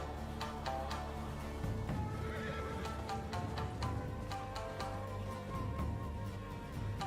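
A horse in the video game Ghost of Tsushima whinnies and snorts amid game ambience, with faint hoof clip-clop and sharp clicks scattered through several seconds, no talking over it.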